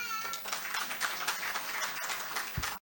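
An audience at a closing remarks ceremony gives full applause, a sustained crowd of clapping hands that runs evenly and then cuts off abruptly at the end.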